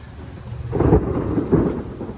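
Thunder from a lightning storm rolls in as a low, rumbling swell lasting under two seconds, with two broad booming surges close together, fairly loud and with no voices over it.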